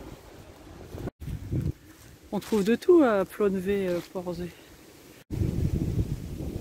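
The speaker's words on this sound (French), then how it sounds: "il y a du vent." Wind blows outdoors in Plonévez-Porzay, gusting as a low rumbling buffet on the microphone before and after someone speaks, fairly loud and close.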